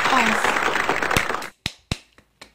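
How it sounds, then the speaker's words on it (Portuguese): A room bursts into dense clapping for a celebration of a small channel's subscriber milestone, then it breaks off into a few sparse, separate claps or taps close by. "Parabéns, palmas."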